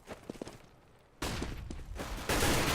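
Gunfire in a Counter-Strike match, rapid rifle bursts that start faint and sparse, then turn into a loud, dense fusillade of shots in two sustained waves.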